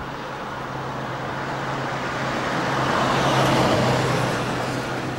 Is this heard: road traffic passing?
yes